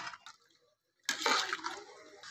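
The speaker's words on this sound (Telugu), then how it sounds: "7 గ్లాసులు వాటర్ వేస్తున్నానండి" Water is poured into a pot of rice for chicken biryani, a short dribble followed by a louder, splashing gush as the glassful goes in, close and alone.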